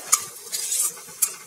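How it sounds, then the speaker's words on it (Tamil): A spoon scrapes through potato fry seasoned with chilli powder in a pan: three quick, close stirring strokes over a faint sizzle, with no talking. "அது கூடயே மிளகாய் தூளையும் ஆட் பண்ணி நல்லா கலந்து விடுங்க"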